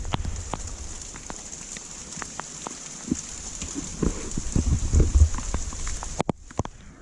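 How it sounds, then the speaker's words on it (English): Spring storm rain in the Carolinas, falling steadily on nearby surfaces with scattered sharp drips and patters, heavier in the middle stretch before easing, with a steady high hiss throughout. "I'm getting rained on"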